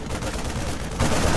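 Dense, continuous gunfire and battle noise from the StarCraft 2 campaign, loud and steady with no pauses, swelling louder toward the end.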